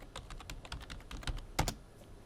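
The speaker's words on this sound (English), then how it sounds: "We type in that password." Keys clatter on a computer keyboard as a password goes in, with a run of quick, light, irregular taps and a couple of sharper presses near the end, close and alone with no speech.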